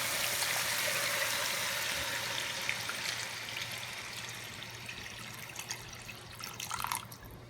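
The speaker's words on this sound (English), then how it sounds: "Next step, we're gonna add 2 cups of water." Two cups of water pour into a pot of seared jerk turkey necks, a steady splashing stream that is loudest at first and then tapers off into trickles and hissing.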